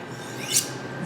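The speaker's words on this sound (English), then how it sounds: "On the corrugated side of the ceramic rod, it'll sound a little different" One honing pass of a knife blade across the corrugated face of a ceramic rod, heard up close as a soft rasp building to a sharp, bright scrape at its middle before settling again, with no speech.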